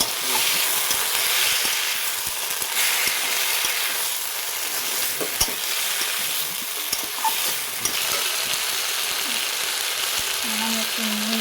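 Tender drumstick stems sizzle and fry steadily in a pan while being stirred, with a continuous bright hiss and occasional scrapes and clicks of the spoon, recorded close with no talk.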